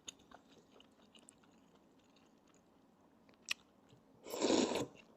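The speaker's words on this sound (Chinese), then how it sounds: "还有鸡蛋可吃，亏损归亏损，还有鸡蛋可吃也不错。" A person chews and eats an egg, faint quiet mouth sounds at first and then a short, louder burst of crunchy chewing near the end, with no talking.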